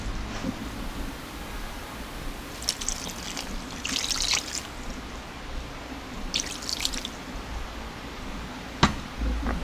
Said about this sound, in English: So we add about 2 more liters of water